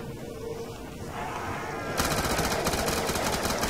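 Rapid automatic gunfire in Call of Duty zombies mode, starting midway as a loud continuous burst of fast rattling shots over steady game background noise.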